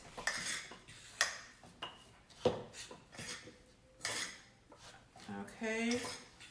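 Hashbrown batter being stirred in a bowl, a series of irregular scraping and clinking strokes of a utensil against the bowl, fairly quiet and close, with a brief murmur of voice near the end.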